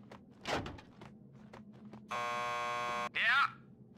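A door buzzer sounds in Max Payne 2, a steady electronic buzz of about a second over low game ambience. A brief rising electronic tone follows it, and muffled voices and thuds come earlier.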